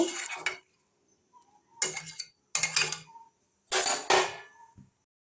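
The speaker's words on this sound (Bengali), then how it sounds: "এবার আমি ঢাকা দিয়ে দেব।" Metal lid clattering onto a pot while potol chingri cooks, several short clanking bursts with brief pauses between them, close and fairly loud, no talking.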